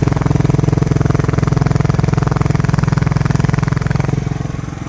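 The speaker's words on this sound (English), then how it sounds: "It's definitely idling better." A 1987 Suzuki SP200 motorcycle engine idles steadily and close by, a loud, even rhythmic putter that holds constant and fades slightly toward the end.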